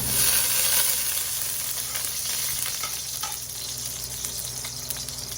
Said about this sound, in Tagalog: Ayan po, mainit na po ang ating mantika. Mag-gisa po tayo. Una, syempre, ang ating bawang.